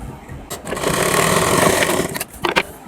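A sewing machine stitches a princess cut blouse seam, joining the pieces from one side, in a dense, steady whirring run that swells through the middle and breaks into a few short bursts near the end.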